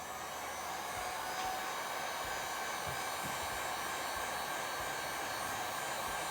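Heat gun fitted with a narrow tip blowing hot air onto resin drips, a steady close roaring whoosh that runs unbroken throughout, with no talking.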